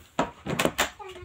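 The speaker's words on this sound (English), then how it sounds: "Door." A door in a caravan hotel opens with a few quick clunks and rattles of the handle and latch, close and fairly loud, followed by a short creak.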